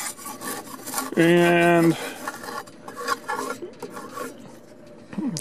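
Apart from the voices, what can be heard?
scraping loose old paint off wooden fascia trim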